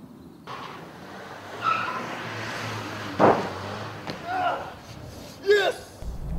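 A Hollywood stuntman flips over a moving car: the car rolls past with tire noise and a sharp thump, then a few more knocks and scrapes, while voices and crowd reactions sound faintly underneath.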